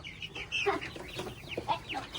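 Young chickens cluck and peep in short, scattered bursts while out on grass for the first time, close and moderately loud, with no talking over them.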